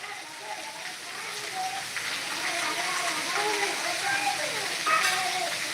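Heavy rain driven by wind pours steadily over a village in Morbi, a dense, continuous hiss with faint voices talking underneath.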